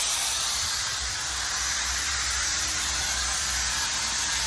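Steam hisses steadily from a slightly opened outlet pipe during inversion lining steam curing at about 0.3 bar, a continuous broadband rush that stays even and close throughout.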